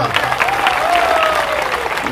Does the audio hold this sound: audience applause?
yes